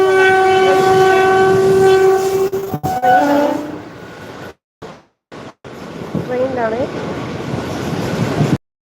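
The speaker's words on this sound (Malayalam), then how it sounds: "ട്രെയിനിലാണ്" A train horn blares with long sustained tones, then the rumble and clatter of a moving train continue, with a brief break and murmuring voices in the background.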